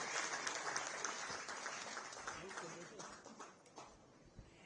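Loud applause welcomes the Chief Minister at a real estate national convention, a dense wash of many hands clapping that gradually thins and trails off toward the end.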